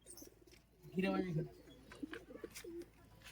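Low, soft giribaz pigeon coos near the middle, with a few quieter calls and scattered chirps after, over faint background noise.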